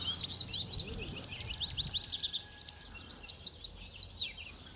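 Wild birds in the Maine wilderness sing and call in rapid, high, twittering phrases, close and clear, running almost continuously before trailing off at the end.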